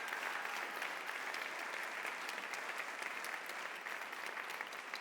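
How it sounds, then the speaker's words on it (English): A seated audience claps steadily at a stage event, producing dense, sustained applause that stays even and loud throughout with no cheering or speech. "So give him a big round of applause for that."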